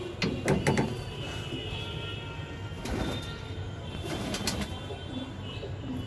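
Domestic pigeons coming up to their water pot, giving soft low coos and a few brief clucking calls over a steady hum of background noise, fairly close, with no speech.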